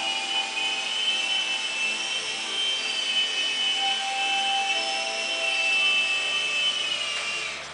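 A Blade mCX2 small RC helicopter hovers and sets down on a weak, low battery, its steady high-pitched motor and rotor whine continuous and close, tapering slightly at the very end as it lands.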